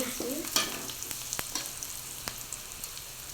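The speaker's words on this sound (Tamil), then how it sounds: "பாருங்க ஃப்ரெண்ட்ஸ், இப்போ இந்த அளவுக்கு ஆனியன் வந்து வதங்கிடுச்சு." Onions sautéing in a pan for a drumstick-leaf and chana dal dish, a quiet low sizzle broken by a scatter of sharp spoon taps and scrapes against the pan, close and without speech.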